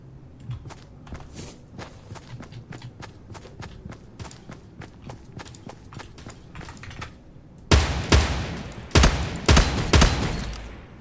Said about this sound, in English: I hear footsteps.